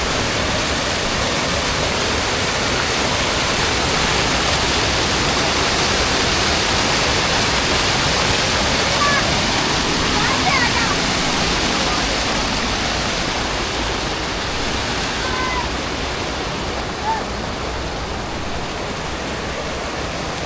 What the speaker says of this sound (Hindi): क्या ज़बरदस्त झरने हैं